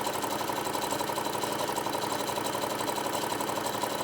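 Sewing machine running a steady stitching seam along a cross body cell phone bag, a continuous fast mechanical whir at an even level throughout, close and alone without talk.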